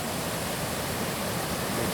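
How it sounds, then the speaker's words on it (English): Rushing water of the Pala-U Waterfalls in Thailand, a dense, unbroken roar filling the air at steady loudness, close by with no voices over it. "this is the Pala-U Waterfalls"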